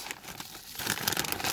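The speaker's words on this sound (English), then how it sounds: "Plastic bags." Plastic bags from a Rail Pass train dexterity board game box crinkling and rustling up close, quieter at first and then louder and busier with crisp crumpling.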